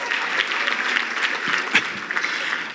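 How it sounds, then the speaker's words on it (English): A gala auction crowd claps steadily, with a continuous roar of many hands and a few louder individual claps, close and lively throughout, without speech. "let's give Rita a big round of applause again"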